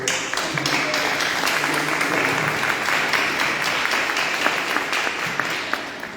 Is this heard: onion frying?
no